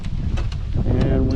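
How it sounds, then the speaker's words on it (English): Gusty wind in interior Alaska buffets the microphone in a steady low roar on a cloudy day, with faint rustling over it. "Rather windy"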